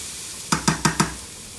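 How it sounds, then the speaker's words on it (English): Vegetables sauté in a pan with a soft, steady sizzle, broken by four quick, evenly spaced knocks of a utensil against the pan. "Okay, so sauteing that."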